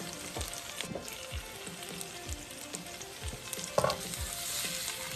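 Breakfast potatoes fry in a pan with a steady sizzle while being stirred with a spice mix, the spatula scraping and tossing in repeated soft strokes close by, with no one speaking.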